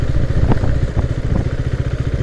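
A KTM Duke 390 motorcycle engine pulses loud and close while riding, with a rapid, even low thump and a few sharp rev surges.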